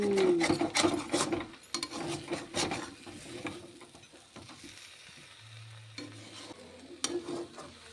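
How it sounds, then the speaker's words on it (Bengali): Spice paste for Bengali shukto is sautéed in a pan, with irregular scraping and rubbing strokes of a spoon over a soft sizzle, busier at the start and quieter later. "মশলাটা দিয়ে আগে কষানো হচ্ছে"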